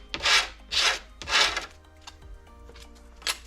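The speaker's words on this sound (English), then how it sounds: "And use the sandpaper one more time" Sandpaper rubs across a ski base during P-Tex repair, heard as three firm, close scraping strokes followed by lighter, fainter passes.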